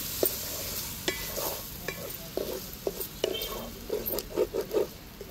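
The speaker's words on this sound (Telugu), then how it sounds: "శుభ్రంగా కడిగి పెట్టుకున్న చికెన్ కూడా వేసేసుకుందాం. మొత్తం ఒకసారి కలుపుకుందాం." Chicken gets stirred and tossed in a cooking pot, a soft scraping and patter of pieces moving with a light sizzle, repeated strokes building to a quicker cluster near the end.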